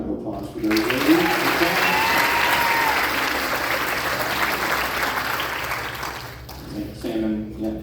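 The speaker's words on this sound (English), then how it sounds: "Round of applause for those ladies." An audience at a middle school band concert applauds two young saxophonists, a dense wash of clapping that swells quickly, holds for several seconds and then thins out, with a voice speaking briefly at the start and end.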